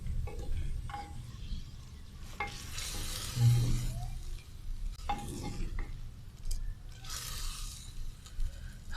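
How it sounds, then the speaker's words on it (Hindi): Chicken sizzles and fries in a pot with steady crackling and occasional stirring scrapes, close and continuous throughout, with no talking. "चिकन डालने के बाद हम इसको थोड़ा सा फ्राई कर लेंगे।"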